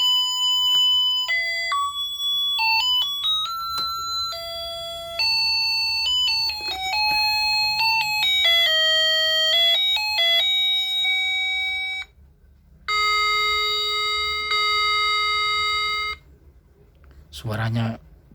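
A car-shaped wall clock plays a loud, shrill electronic melody of bright stepped beeping tones. It runs through several phrases, breaks briefly, then plays a held stretch before stopping.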